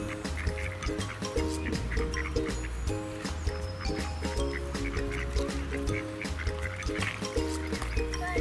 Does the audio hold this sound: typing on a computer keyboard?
no